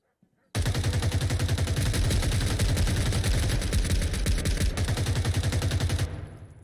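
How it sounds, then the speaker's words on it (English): Sustained automatic gunfire in a multiplayer match of the shooter game Zero Hour, dense rapid bursts overlapping from several weapons, loud and continuous for about six seconds before cutting off, with no voices. "Lots of fire going back and forth."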